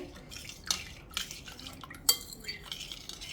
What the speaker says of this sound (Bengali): এবার আমি এটাকে একটু নেড়ে নিলাম